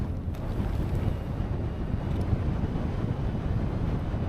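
Wind buffets the microphone on a frozen winter mountain top at Crag Hill, a loud, steady, low rumbling roar that continues without a break.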